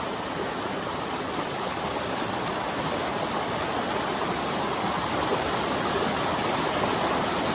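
River water rushing along a mountain trail crossing, a steady dense broadband roar, close and constant with no voices.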